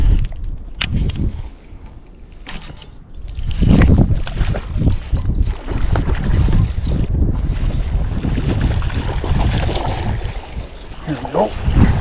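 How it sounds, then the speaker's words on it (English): Gusty wind roars across a microphone on a fishing boat on the water, loud and buffeting throughout with low rumbling surges, water sloshing and scattered knocks beneath it. "the wind picked up"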